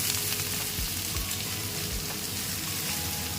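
Potatoes frying in hot oil in a home kitchen, a continuous close crackling sizzle with occasional stirring, no voices.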